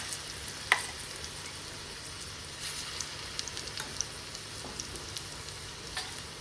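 Faint, steady sizzling of oil with scattered light pops and ticks as grated potato fritters fry, quiet and continuous without any talking.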